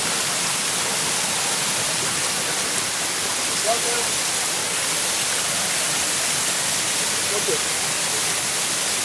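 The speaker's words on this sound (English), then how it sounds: "I'm still at the waterfall here" Karu waterfall in Abuja, Nigeria: a steady, dense roar of falling water fills the whole stretch at close range, and a person briefly speaks over it.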